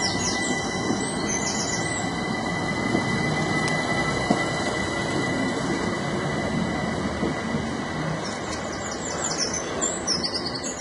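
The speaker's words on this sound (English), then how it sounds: "The train we just got off, we only went one stop." A train rumbles steadily past with metallic wheel squeals and rattling, loud and continuous, with faint birdsong in the background.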